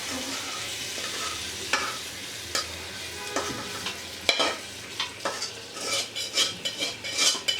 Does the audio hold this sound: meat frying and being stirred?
yes